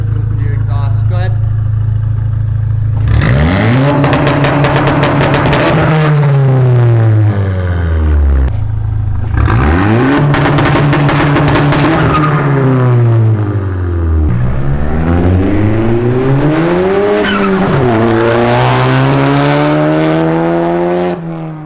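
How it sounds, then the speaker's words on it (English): Volkswagen MK7 GTI, bagged with a Stage 2 build, revving its exhaust inside a parking garage: three loud rising-and-falling revs echo off concrete, with idle between them and a voice heard briefly. "here's what Jordan's exhaust sounds like inside of a parking garage."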